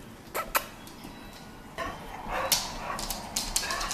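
A dog gives several sharp barks and yips, loud and close, in short bursts between quieter stretches, with a few whimpering sounds mixed in.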